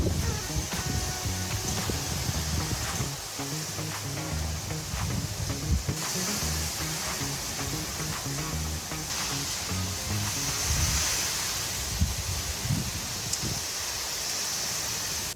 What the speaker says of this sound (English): This is really windy stuff, super windy, ton of rain.